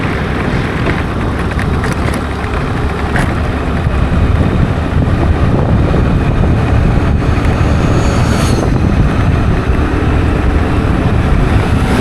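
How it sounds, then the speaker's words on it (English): Heavy wind buffets the microphone at a seaside beach in Bali, a loud continuous low rumble and roar that fills the whole stretch with no talking. "Sorry about the wind."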